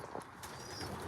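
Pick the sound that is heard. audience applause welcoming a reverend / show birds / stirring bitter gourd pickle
show birds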